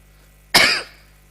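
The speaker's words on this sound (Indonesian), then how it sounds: "Batuk." A single sharp cough bursts out close by during a spoken religious lecture, a short harsh burst that fades quickly into a quiet room with a faint hum.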